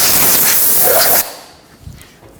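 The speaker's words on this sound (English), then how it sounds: "I'm just going to spray it with some compressed air." A short, loud burst of compressed air sprayed to clear debris from a car engine hisses steadily for about a second, then cuts off abruptly, leaving quiet room tone.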